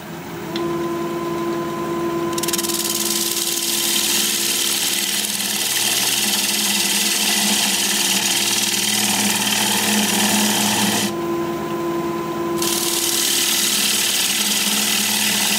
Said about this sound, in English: I'm going to use a 5/8 inch bowl gouge. We're going to be turning at 1150 RPM